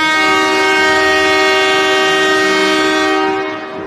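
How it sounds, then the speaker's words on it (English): A loud, sustained air horn blares steadily with rich harmonic tones for several seconds after a goal at a high school ice hockey game, fading slightly at the end. "get ready to have your finger near that air horn again"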